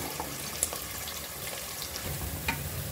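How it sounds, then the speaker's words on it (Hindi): Onions frying in four tablespoons of oil until light brown for Hyderabadi mutton mahi khaliya, a low steady sizzle with a couple of faint clinks of stirring. "प्याज को हम लाइट ब्राउन करेंगे।"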